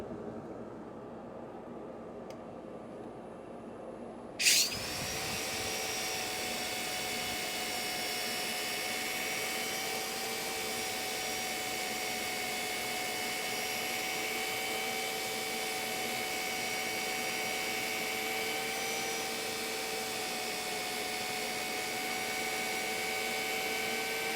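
Dust collection vacuum at a woodturning lathe kicks on abruptly a few seconds in, then runs as a loud, steady whine and roar with no voices over it.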